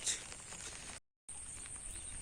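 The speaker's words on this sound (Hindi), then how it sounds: "बहुत बारिश हो रहा है।" Heavy monsoon rain falls steadily, a faint, even hiss of downpour with a brief cut to silence partway through, and no one speaking.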